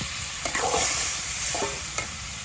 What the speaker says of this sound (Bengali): তেল হয়ে গেছে, তো মাছগুলো দিয়ে দেওয়া হয়েছে